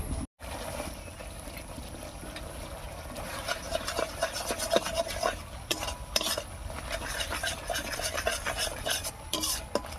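A spice masala with red chilli powder is stirred and fried in a pan, giving continuous scraping and sizzling with intermittent utensil clinks and taps throughout.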